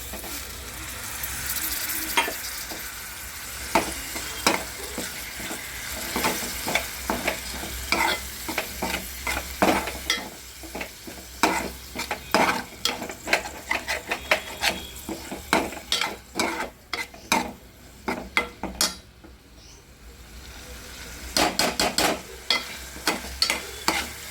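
Ground coconut, cumin and coriander masala fries and sizzles in a pan for aloo chana masala, with frequent scraping stir strokes over a constant hiss, a brief lull near the end, then renewed stirring.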